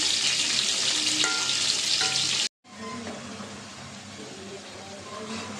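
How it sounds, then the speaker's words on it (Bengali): Spice paste with green chillies frying for a ripe-tomato hilsa curry hisses in a steady sizzle, with stirring clinks and a sharp break in the middle before the frying resumes. No one talks. "মশলাটা কষাই দেবো কয়েকটা কাঁচামরিচ দিয়ে দিলাম"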